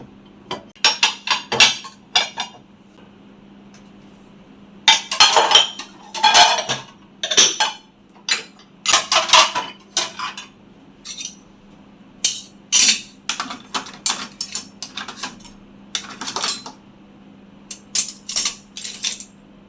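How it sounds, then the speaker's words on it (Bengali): Washed plates and dishes being stacked and arranged on a home kitchen counter at night: close, sharp ceramic clinks and clatters in irregular bursts over a steady low hum, with no talking. "সবগুলো প্লেট গুছিয়ে নিতেছি, দেখেন"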